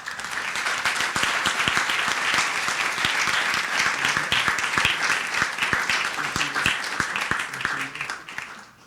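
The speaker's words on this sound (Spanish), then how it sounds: "Por favor, recibámoslo con un fuertísimo aplauso." A seated audience at a book presentation gives sustained, dense applause, many hands clapping loudly and steadily before it starts to thin toward the end.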